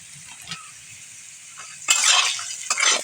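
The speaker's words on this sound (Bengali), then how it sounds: "আলুটা ভাজা হয়ে গেছে" Potatoes frying in a pan while a fish curry is being made, with a soft sizzle and light stirring that flare into louder, brighter bursts of frying near the end; no one speaks.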